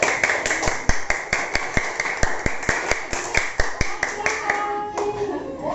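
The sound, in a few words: classroom applause for a group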